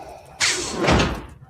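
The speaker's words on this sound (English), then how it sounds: "A set of doors burst open." A set of doors bursts open in a Star Wars video game scene, a sudden loud broadband slam followed by a sustained rushing impact that swells again before fading, with no talking.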